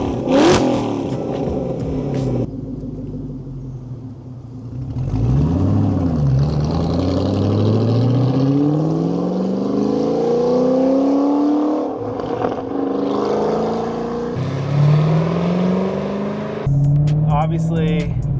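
A modified supercharged Ford GT engine revs and accelerates through rising gear sweeps, loud and close, with a few shifts and brief lifts between pulls.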